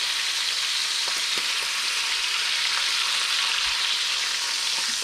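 Bacon frying in a 14-inch Anolon Advanced hard anodized wok, a loud, steady, dense sizzle and crackle of grease with a few faint scrapes as the pieces are stirred and turned.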